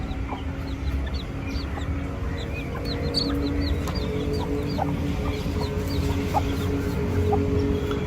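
Hens cluck busily nearby, with many short calls and chirps overlapping over a steady farmyard background and no talking.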